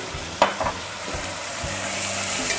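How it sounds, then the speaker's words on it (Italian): Celery and onion frying in a pan for caponata give a steady, close hiss with occasional small pops and stirring clatter, and no talk. "Intanto che si imbiondisce il sedano con la cipolla"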